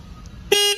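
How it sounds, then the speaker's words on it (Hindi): A single short, loud honk from the chrome horn of a 2023 Royal Enfield Bullet 350 motorcycle, heard close up and alone. "एक बार मैं आपको इस बाइक का हॉर्न सुना देता हूँ"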